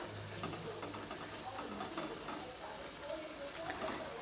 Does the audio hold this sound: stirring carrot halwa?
yes